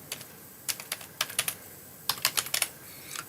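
Fingers tapping on a computer keyboard while entering a database query, several quick bursts of sharp, close keystrokes separated by short pauses.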